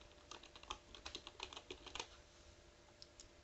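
Quick, faint clicking of a computer keyboard as text is typed in a design program, a rapid burst of keystrokes that thins out to a couple of final taps.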